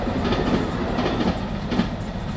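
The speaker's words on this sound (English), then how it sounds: "The train's in a hurry. That's the passenger one." A passenger train rushes past nearby at speed, producing a loud, continuous rumbling roar with rhythmic clickety-clack of wheels over rail joints and no talking.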